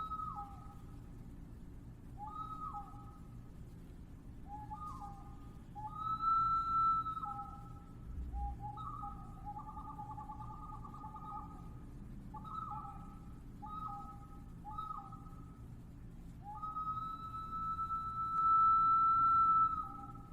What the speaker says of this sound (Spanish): Esta es una botella silbato de cerámica, una vasija muy sofisticada con un silbato en la base de la asa que produce un sonido muy agudo.